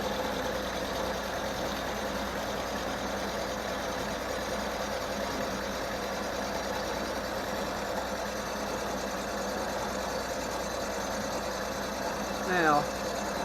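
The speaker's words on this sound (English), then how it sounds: "See, the power cross feed's working. That's what's driving it." Milling machine under power cross feed cutting lift engine mounts, a steady droning whir that runs unchanged throughout, with a short rising squeal near the end.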